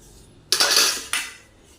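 Spoon clinking and scraping in a glass of melon milkshake as sugar is stirred in, two bright metallic bursts of stirring with a short pause between, close and fairly loud.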